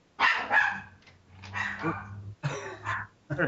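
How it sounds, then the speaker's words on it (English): An American dog gives several hoarse, throaty barks in short bursts, close and fairly loud, with no talk over them. "That's the dog."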